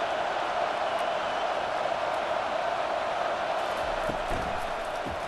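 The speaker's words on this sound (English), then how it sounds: "This crowd going to try to make life miserable for these guys." Stadium crowd in the NCAA College Football video game, South Carolina at Oklahoma: a faint, steady crowd roar with no distinct cheers, continuous throughout.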